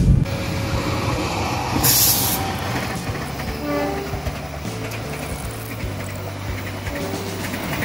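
A train passes on a railway along the road between Grobogan Purwodadi and Solo, a continuous rolling rumble of wheels with clacking and a sustained horn tone sounding over it for several seconds.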